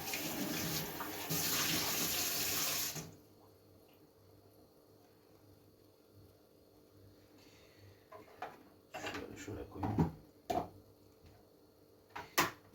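Water runs steadily from a tap for a few seconds while the parts of a new Arzum Okka Minio Turkish coffee machine are washed, then stops and leaves quiet clicks and clatters of handling nearby.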